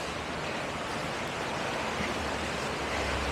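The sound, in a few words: small stream flowing in Skye woodland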